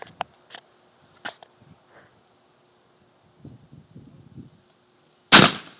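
A shotgun fired at a distant outdoor target: faint clicks and rustling lead up to one sharp, loud, close blast near the end, which rings out briefly.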